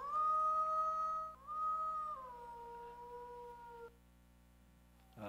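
A wolf in Yellowstone, the pack's alpha female, calls to her pack with a long, steady howl that breaks, resumes and slowly falls in pitch. It sounds clear and sustained over a quiet background with no talk.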